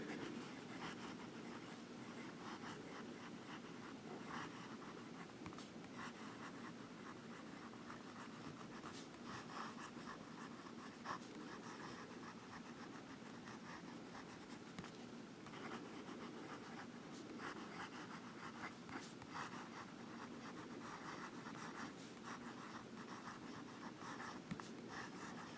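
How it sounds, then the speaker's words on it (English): A PenBBS 308 fountain pen scratches across paper in a steady stream of fine nib strokes, quiet and close-miked, running unbroken with no talk. "And now we'll get back to some writing."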